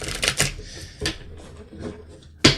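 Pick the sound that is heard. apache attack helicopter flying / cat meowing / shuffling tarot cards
shuffling tarot cards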